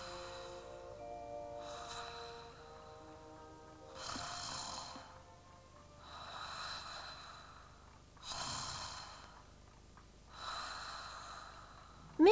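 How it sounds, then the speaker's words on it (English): Mrs. Bear snoring in a storybook reading: slow, regular snores with loud breathy peaks about every two seconds, alone and steady. "Mrs. Bear began to snore."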